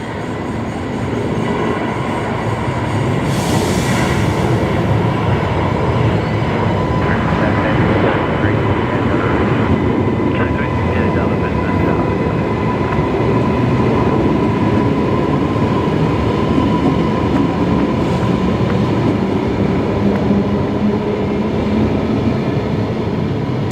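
A Qantas airliner bound for Auckland rolls down the runway for takeoff at Brisbane Airport, a loud, steady, broadband jet roar that holds for the whole stretch, with a brief surge in brightness early on.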